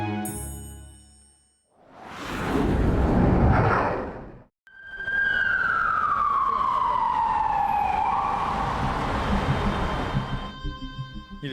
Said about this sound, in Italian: Il suono delle sirene delle ambulanze squarcia ormai da settimane la calma estone